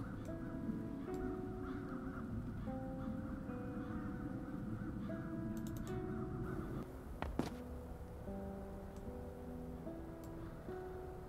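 Crows cawing in the fantasy adventure game Chains of Satinav, a few sharp calls standing out briefly over a steady, busy backdrop of game music and ambience.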